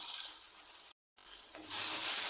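Chopped tomatoes frying with potatoes and carrots in a pan for a Tamil chicken kuzhambu, a steady close sizzle that cuts out briefly, then returns louder and brighter, with no voices.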